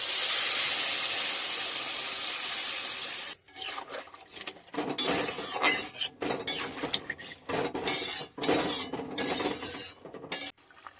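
Water poured onto sautéed ridge gourd, potato and spices in a hot pan for a thin mango fish curry, a loud steady hiss for about three seconds, then bursts of bubbling sizzle and metal clinks from stirring.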